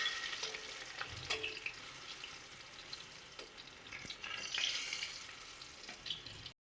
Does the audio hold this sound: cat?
no